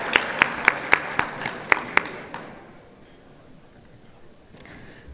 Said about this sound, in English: Let's give them all a round of applause and thank them for their incredible support.